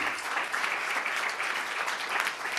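Sustained applause from a church congregation during a Spanish-language worship service, a dense, steady wash of many hands clapping together at even loudness throughout.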